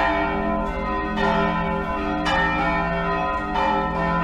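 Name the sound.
church bells of Belém cathedral ringing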